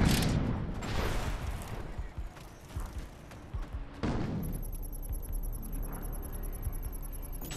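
Gunfire crackles through a firefight in the shooter game Defiance: dense, scattered shots and impacts under steady battle noise, with a brief electronic chirping sound near the end.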